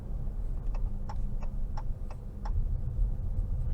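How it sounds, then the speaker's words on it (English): A 2022 Dodge Challenger GT Blacktop turn signal ticking inside the cabin, a regular series of crisp clicks under a low road and engine hum. "And I like that blinker sound too."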